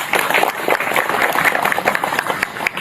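Audience applause at an Indonesian religious gathering honoring the West Java governor: dense, steady clapping from a crowd, fairly loud and continuous throughout.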